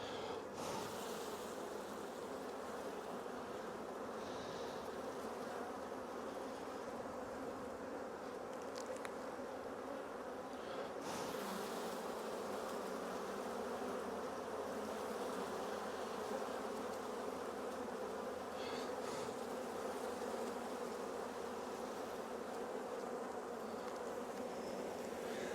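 A dense honey bee hive gives off continuous close buzzing, a steady low drone from many bees that holds for the full length without pauses or voices.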